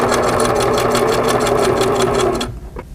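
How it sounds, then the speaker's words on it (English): A Singer sewing machine runs steadily, stitching a quarter-inch quilt seam with a fast, even mechanical whir and needle rhythm, loud and close, then stops abruptly near the end. "Use a 1/4 inch seam allowance and begin to sew."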